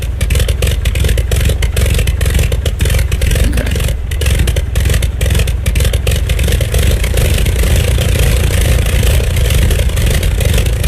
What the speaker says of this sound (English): I really do like the sound of that 5-cylinder radial, though. It sounds really good. It's very thumpy.